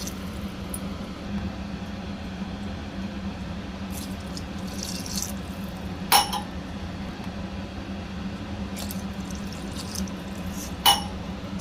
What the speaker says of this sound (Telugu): ఈ గ్లాస్కి 3 గ్లాసెస్ వాటర్ వేస్తున్నాను